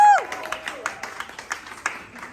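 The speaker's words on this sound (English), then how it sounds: "Please give a round of applause for Dark and Lovely tonight" Audience applause at a hair product launch, a brief spell of separate claps fading out after a short tone at the start.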